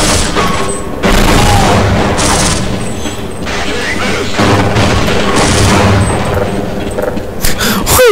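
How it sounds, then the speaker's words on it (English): Explosions in the first-person shooter Half-Life, several heavy booms and crashing bursts spread across the clip with gritty mechanical noise between them, loud and close. "I blew myself up because of the explosion physics"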